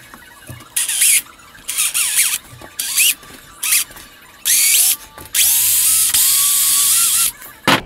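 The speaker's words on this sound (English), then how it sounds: "I'm going to drill a hole straight through it so I can fish the cable through" Power drill boring a hole straight through a wooden catch pole handle for trapping, loud whining bursts that start and stop repeatedly, rising in pitch as the bit spins up, with a long final run, close up and no talk.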